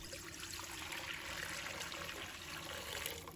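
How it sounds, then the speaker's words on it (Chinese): Clean water pouring into a cooking pot on the stove, a steady soft splashing stream that runs quietly and continuously with no talk. "接着我们起锅，倒入清水，"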